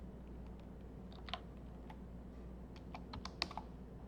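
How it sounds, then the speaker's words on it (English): Keystrokes on a computer keyboard during library catalogue data entry, a few sparse, light clicks over a steady low hum, soft and close. "So in this way you need to type authors."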